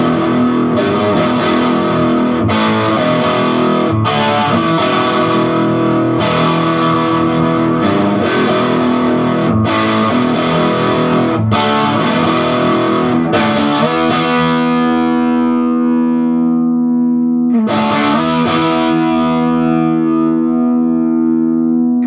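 Heavily distorted electric guitar, an HH superstrat played through a Vox AC15C1X tube amp with a mid boost, plays loud chords and riffs, then lets a final chord ring out and decay before striking again.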